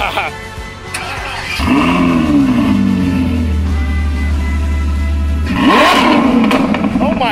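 A Ferrari F12 V12 revs hard on a launch start, a loud sustained roar that climbs and holds for several seconds, then fades and surges again near the end, with excited voices talking over it.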